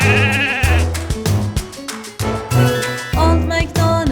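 Sheep bleat in a children's farm song, a run of loud, short bleats in quick succession with brief gaps between them, set against musical backing.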